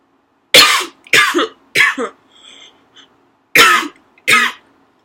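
Several sharp, loud coughs close to the mic: three in quick succession, a short pause with faint rustling, then two more.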